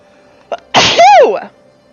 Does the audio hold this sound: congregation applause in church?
no